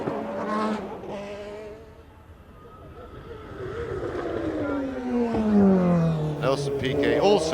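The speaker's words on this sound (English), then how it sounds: "You can hear he's not revving the engine at all right up to the revs then." A 1990 Formula 1 race car engine at Suzuka during the Japanese Grand Prix whines past, its pitch sliding downward as it goes. A commentator talks throughout.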